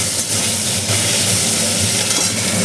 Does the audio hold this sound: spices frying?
yes